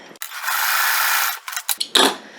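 A sewing machine stitches through newspaper in a short, loud, close burst of needle chatter lasting about a second. Brief clicks and rustles follow, and there is no talking.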